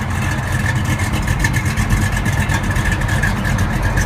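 A restored 1978 Chevrolet Camaro with a 454 cubic inch V8 and 4-speed runs steadily, giving a loud, continuous low rumble with a faint rough pulsing and no talk over it.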